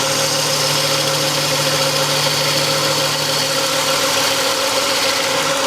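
A wood lathe spins a spindle while a spindle gouge cuts, giving a steady motor hum with a constant tone over a continuous rough shearing hiss, even and unbroken throughout.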